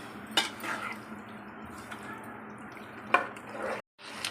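Chicken frying on high flame in a pan for a Hyderabadi dumka chicken fry, quiet sizzle under a few sharp clinks of a spoon against the pan as it is stirred, briefly cutting out near the end.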